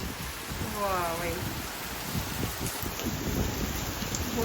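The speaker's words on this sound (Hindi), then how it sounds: "बहुत तेज आ चुकी है बारिश।" Heavy rain pours steadily with a dense, hissing patter close by, and a voice speaks briefly under the downpour.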